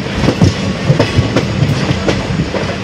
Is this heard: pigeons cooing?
no